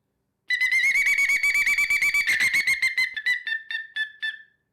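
A Ninja Hawk game call imitates a pileated woodpecker: a loud, fast run of shrill whistled notes that stays steady, then breaks into separate, spaced, fading calls toward the end, played alone with no voices.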